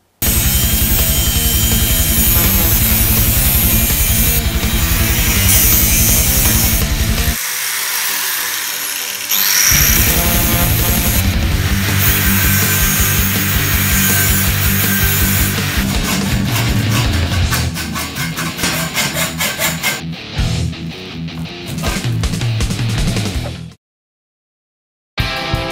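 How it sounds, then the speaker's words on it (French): An angle grinder cuts through steel tubing on a GT40 replica chassis, a loud sustained high-pitched whine with shifting pitch as the disc bites, pausing briefly midway before resuming, then cutting off. "je prends une disqueuse pour découper proprement tout ça"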